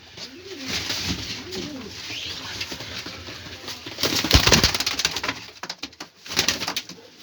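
Old pigeons at a bird auction coo softly and repeatedly in the foreground, with a brief flutter and rustling bursts midway and light background noise, no clear talk.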